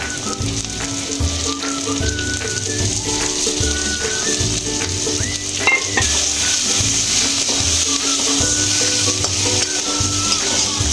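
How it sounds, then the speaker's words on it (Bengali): Fried tiger prawns go into cooked spice paste in a hot pan and sizzle loudly and steadily, with a spatula repeatedly scraping and stirring against the metal throughout. "এবার ভেজে রাখা চিংড়ি মাছগুলো দিয়ে দেবো মশলার উপরে।"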